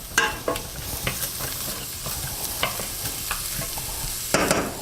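Lamb burger meat sizzles steadily in a frying pan while a spoon scrapes and stirs it, giving repeated close clinks and scrapes over a constant frying hiss, with no talk.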